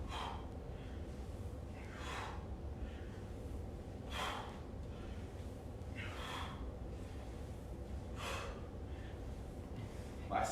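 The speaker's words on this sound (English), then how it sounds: "Strong exhale." During an at-home kettlebell workout, a person lets out forceful breathy exhales about every two seconds, each a short puff of air over a steady low background hum.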